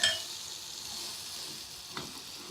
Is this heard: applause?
no